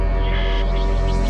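Dubstep verse of a song being built, with heavy growl bass filling the mix: a dense, loud, continuous wash of distorted synth texture throughout a short stretch, no voices.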